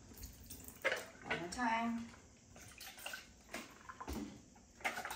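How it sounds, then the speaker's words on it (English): Sanitized fermenting weights are rinsed under a running tap, with water splashing and gushing in uneven bursts, fairly faint, while a person speaks briefly over it. "I sanitize them as well, so I'm gonna rinse off the alcohol"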